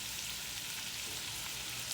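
Summer squash fries in bacon grease in an iron skillet, giving a steady, close, even sizzle with no talking.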